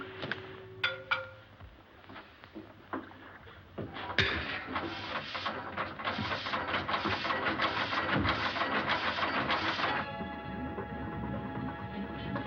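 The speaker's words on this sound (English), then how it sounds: "Stop the engine." Boat engine running in an old film scene, a busy mechanical rattle and chug that builds after a few scattered clanks, then settles into a steady close drone.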